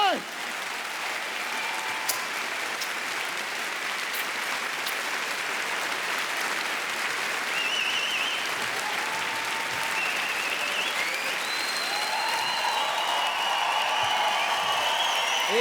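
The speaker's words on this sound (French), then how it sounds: "tenez un applaudissement pour Tania et Eric, s'il vous plaît" A comedy show audience gives a sustained round of applause, dense clapping from many hands that holds steady for the whole stretch, with some voices faintly mixed in.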